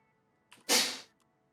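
A single sneeze, a short sharp burst with a faint intake just before it, close and clear against a quiet room.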